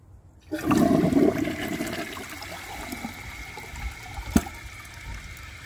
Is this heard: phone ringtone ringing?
no